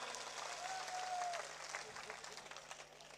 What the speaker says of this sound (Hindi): बंसी जी देवासी वास्ते जोरदार तालियां बजाओ भाई।